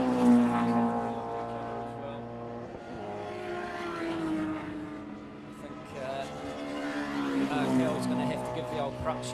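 A Sierra race car runs on a track at a classic racing event, its engine a steady, droning roar that rises and falls across the run, with a voice talking over it.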